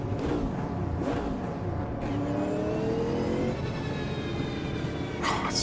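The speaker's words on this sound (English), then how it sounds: "I just love the noise of this thing." Twin-turbo V8 race car engine in Automobilista 2 at Daytona, droning loudly and steadily with rising and falling pitch as it revs through gears, no talk over it.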